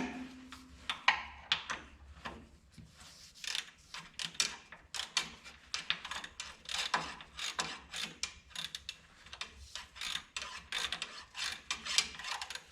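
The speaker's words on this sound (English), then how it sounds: "tighten them down a little bit more with the ratchet" A hand ratchet tightens engine bolts on a 1969 Minneapolis Moline U302 tractor, with close, quick clicking bursts in an uneven rhythm and short pauses between strokes.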